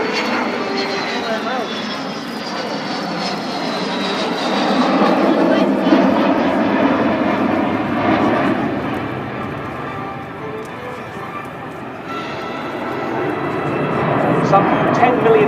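The Avro Vulcan XH558 jet bomber flies its airshow display at Waddington in 2013 with wheels down, its jet roar swelling and fading in waves under continuous announcer commentary.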